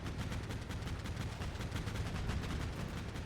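A heavy machine gun in a tactical urban-combat war video game fires without a break, a dense, loud, rapid rattle of shots that stays level from start to finish.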